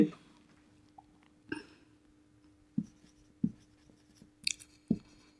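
Chalk or marker writing on a board during a maths lesson, a handful of short separate strokes and taps spaced irregularly, close and fairly quiet against a low hum.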